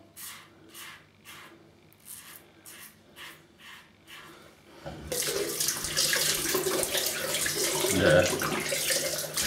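A tap runs as a razor is rinsed after a shave, a steady close splash and hiss of water that starts abruptly partway through, following a stretch of quieter intermittent sounds.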